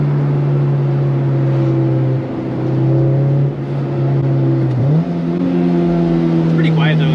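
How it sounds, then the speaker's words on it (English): A Honda S2K with a newly installed exhaust drones steadily from inside the cabin, the engine tone holding fairly even with a small shift in pitch partway through, continuous and moderately loud. "Finally, man, I can hear the damn car."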